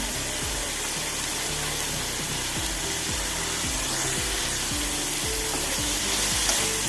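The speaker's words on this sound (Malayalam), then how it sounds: "ഇനി കുറച്ച് കരിയേപ്പില ചേർത്ത് കൊടുക്കുക" Curry leaves sizzle in a cauliflower curry, a loud, continuous frying hiss close by, with a rhythmic low pulsing running underneath throughout.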